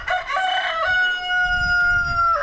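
Rooster named Franklin crowing once, a loud, drawn-out call with bright sustained tones lasting about two seconds, close by and alone with faint farmyard rumble underneath.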